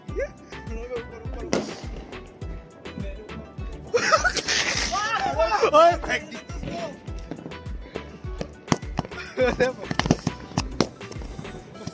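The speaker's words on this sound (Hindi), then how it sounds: "यही फोड़ दिया भाई। मैं सोचा एक पटाखा ही है।" Sharp Diwali firecracker pops and crackles go off repeatedly nearby, mixed with people talking and shouting excitedly.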